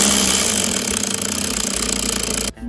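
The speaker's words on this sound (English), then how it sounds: "The compressed air from the bottle will push the piston" A small toy piston engine driven by compressed air from a bottle runs with a steady, buzzing chug and fast even pulses, loud and close, before cutting out abruptly near the end.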